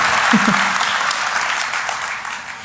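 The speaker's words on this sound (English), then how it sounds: "People are finally clapping for me." Brief applause from the audience at a DEF CON hacker conference talk, a short burst of steady clapping from the crowd with a faint voice near the start.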